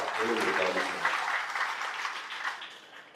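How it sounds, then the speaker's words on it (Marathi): An audience at a book launch claps loudly and steadily for the children who carried the book in a palanquin. The applause is sustained and close, with a voice briefly over it at the start. "त्या मुलांसाठी जोराने जरा टाळ्या वाजवा"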